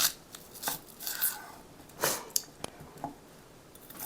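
Knife chopping a small whole onion on a board, irregular crisp cuts close to the mic, some quick and some spaced apart, with quiet pauses between them.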